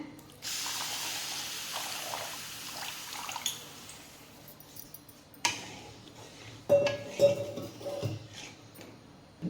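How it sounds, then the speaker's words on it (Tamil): Water runs and splashes steadily into a pan of sugar for making syrup, with a few metallic clinks and taps near the end; no talking. "இந்த சர்க்கரைக்கு தகுந்த மாதிரி கொஞ்சமாக தண்ணி சேர்த்துக்கிறேன்"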